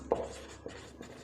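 Chalk or marker writing on a board during a lesson on diagonal elements of square matrices, a brief close tap and scratch followed by fainter strokes.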